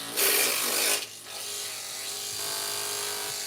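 Electric hair clippers with freshly sharpened blades running: a loud, close buzz for under a second, then a lower, quieter steady hum that continues to the end.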